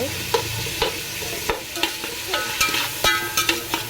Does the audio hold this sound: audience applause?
no